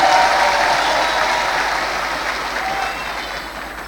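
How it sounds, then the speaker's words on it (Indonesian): An audience at a large business launch event in an auditorium claps steadily, a dense, loud burst of applause that gradually tapers off over a few seconds. "Tepuk tangan sekali lagi buat Bapak Haji Febrian Agung."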